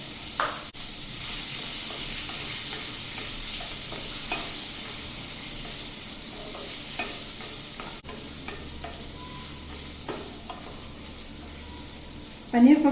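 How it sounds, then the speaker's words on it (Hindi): Paneer frying in ghee gives a steady, close sizzle that runs throughout, broken by occasional scrapes and stirs of a utensil and a louder clatter at the very end. "इसी घी में पनीर भी फ्राई कर ले रहे हैं।"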